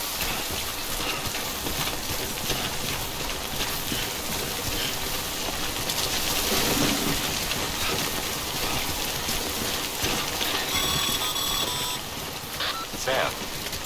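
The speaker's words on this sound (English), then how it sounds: "Don't stay out in the rain any longer than you have to." Timefall rain in the video game Death Stranding pours as a steady, dense hiss that fills the whole stretch without a break, with faint tonal sounds layered over it.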